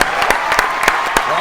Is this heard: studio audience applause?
yes